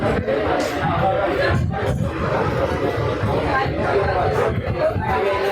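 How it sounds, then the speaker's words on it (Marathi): Dense crowd chatter fills a busy hotel restaurant, Mayur Garden Hotel in Dadar, with many overlapping voices forming a steady, loud babble throughout. "प्रचंड गर्दी आहे."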